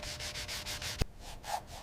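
Wood being sanded by hand during a restoration, rhythmic back-and-forth strokes at a steady quick pace, a brief knock midway, then a few slower passes, close and alone.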